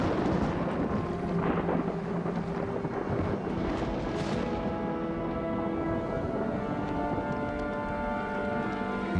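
Thunderstorm with steady heavy rain and rolling thunder, a continuous dense roar that swells with a louder crack of thunder partway through, no voices.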